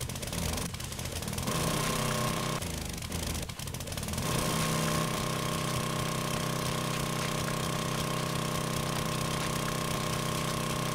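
An auger drill runs in the game 7 Days to Die, a loud, steady mechanical drone with a sustained tone, briefly choppy near the start and then continuous, with no talk.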